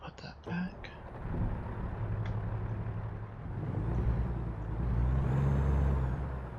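Air brake hiss from a truck in American Truck Simulator, a short burst early on followed by a steady low engine rumble that swells toward the end, with no talking.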